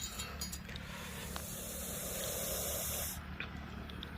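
A Russell's viper hisses loudly and steadily, a pressure-cooker-whistle-like rush of air lasting a few seconds before cutting off, close by over low background rumble.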